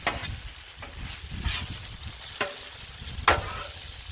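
Southwestern chili mac sizzles on a Blackstone griddle while being stirred, a close, steady frying hiss broken by several sharp scraping and clinking spatula strokes, with no talking.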